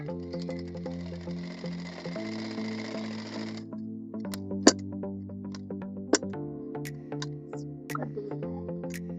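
A sewing machine stitches blouse fabric with a steady, close mechanical whir that runs continuously, with a few sharp clicks partway through and no talking.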